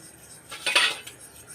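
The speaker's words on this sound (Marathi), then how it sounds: "आता याला मी नीट मिक्स करून घेते" A utensil briefly scrapes and clinks against a bowl as beaten egg is stirred with salt, a short metallic whisking burst in the middle of an otherwise quiet moment.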